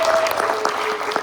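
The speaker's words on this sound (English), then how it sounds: "great big applause for our guest speaker students" Audience clapping for guest student speakers at a panel discussion on student protests in Serbia, a short burst of moderately loud applause from a room of people with a faint tone running underneath.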